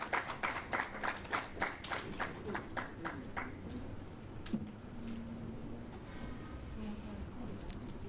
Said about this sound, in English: Please, a round of applause as they sit back